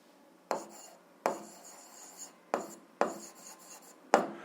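Pen strokes on paper while working an algebra exercise, five separate scratchy bursts of writing spaced by short pauses, close and fairly quiet with no talking.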